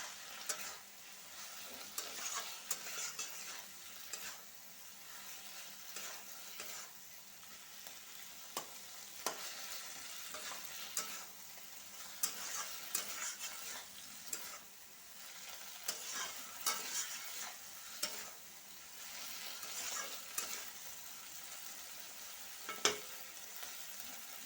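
Fried prawns being stir-fried with bottle gourd in a pan, a steady sizzle with repeated scraping stir strokes throughout, fairly close and with no talking.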